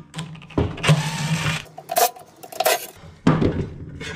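A Torx bit backs screws out of a solar inverter casing in several short metallic bursts of whirring and clattering, separated by brief pauses, close and fairly loud.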